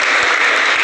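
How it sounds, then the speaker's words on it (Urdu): Applause for a poet at a mushaira in London: a dense, loud wash of clapping from a crowd, heard only briefly. "انہیں زوردار تالیاں ان کے لیے بجنی چاہیے"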